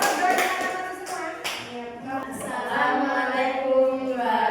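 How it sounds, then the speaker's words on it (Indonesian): Classroom applause as students clap together for a group about to present, a steady dense patter of many hands close by, with voices talking through it. "Oke, tepuk tangan semuanya."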